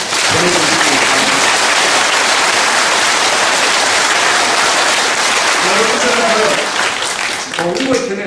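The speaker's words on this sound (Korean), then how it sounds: "여러분들 자축 그리고 자신감을 담은 박수를 한번 서로 보내주시기" Dense, continuous applause from a crowd at a political gathering fills the whole stretch at steady volume, with a voice speaking over it at the start and again near the end.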